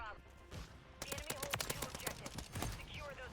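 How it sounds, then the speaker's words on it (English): Gunfire in Modern Warfare 3, with rapid bursts of automatic fire breaking in after a quieter moment and continuing in sharp clustered shots, mixed with game sounds and some speech. "Who is shooting me?"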